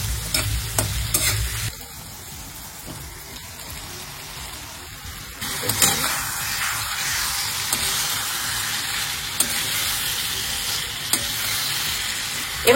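Eggplant and egg stirred and frying in a pan, with a steady close sizzle and scraping stirs throughout and a louder burst of frying partway through, no voices.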